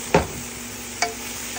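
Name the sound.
stirring vegetables cooking in a pan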